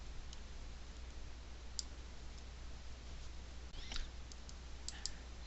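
A few faint, isolated computer mouse clicks, including a double click, sound sparsely while adjusting a chart in spreadsheet software, set against a low steady hum with no talking.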